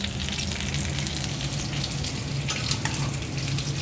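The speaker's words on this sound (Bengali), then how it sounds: "মাংসের টিকিয়া ভাজা হচ্ছে রুটির সাথে খাওয়ার জন্য।" Meat patties (tikiya) fry steadily in a pan, a continuous close sizzle and crackle of hot oil with no talking.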